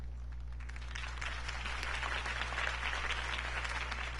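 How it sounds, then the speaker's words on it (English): Steady crowd applause fills the room after Harvey Dent's campaign speech in Batman Telltale, a dense, even wash of clapping over a low constant hum, with no talking. "If only Mr. Wayne, my campaign's largest backer, could have heard that applause"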